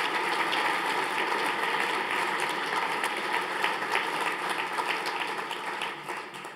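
Audience applause for architect Marlon Blackwell at a regional housing symposium in Bentonville, Arkansas: a dense, steady wash of many hands clapping that holds loud throughout and thins slightly toward the end.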